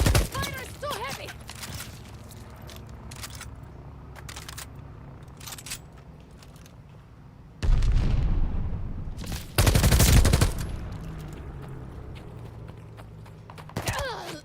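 Heavy gunfire in the video game Call of Duty Vanguard: scattered sharp shots and mechanical clicks give way to two loud, dense bursts of firing, with a player's voice talking in between.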